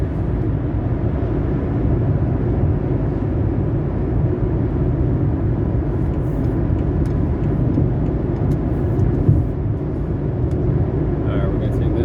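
A 2007 BMW 650i cruising on the highway at about 73 mph and 2,400 RPM, giving a steady, continuous interior drone of engine and road noise that stays even throughout.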